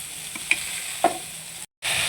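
Spices with salt and turmeric sizzle steadily in hot oil, with a couple of sharp spatula clinks while stirring, close and continuous apart from a brief silent gap before the frying resumes.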